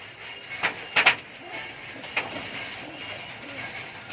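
Giribaz high flyer pigeons in a loft give a few soft coos, a cluster of short calls early on and one more later, faint against a quiet room background.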